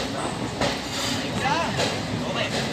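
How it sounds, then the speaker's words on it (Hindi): The Varanasi Mahamana Express, running late, pulls into Sultanpur Junction station with a steady rumble and rattle of rolling carriages and faint rhythmic clatter, heard continuously and close, with background voices mixed in. "तो फाइनली अब हमारी ट्रेन आ पहुंची है सुल्तानपुर जंक्शन"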